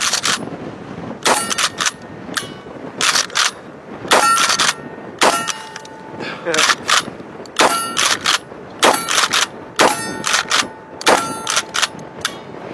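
A KSG shotgun is fired repeatedly, about a dozen sharp, loud reports in irregular succession, each followed by bright metallic clanging and ringing.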